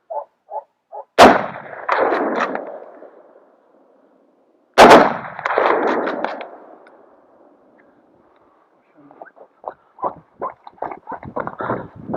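Two loud, sharp shotgun blasts ring out outdoors during a wild boar hunt, each trailing into a long echoing rumble, with faint clicks and scattered softer pops between and after them.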